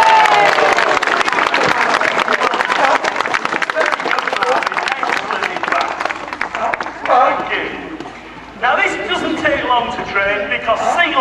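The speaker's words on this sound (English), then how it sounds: "Give him a clap if he gets it." An audience claps and cheers at a sea lion show. Dense, loud applause fills the first seven seconds, then fades into crowd murmur and voices.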